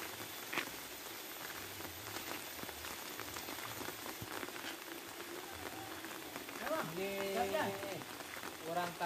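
Steady rain patters on surfaces throughout, a dense continuous hiss with scattered drops, while faint voices and a brief tonal sound rise near the end.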